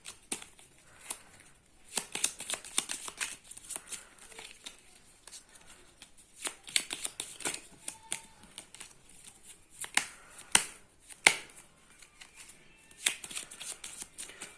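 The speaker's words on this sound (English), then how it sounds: "So I'll be shuffling this again." A deck of playing cards is shuffled by hand during an impromptu card trick, giving repeated soft riffling and flicking bursts with crisp snaps, fairly close and quiet, with faint talking in the background.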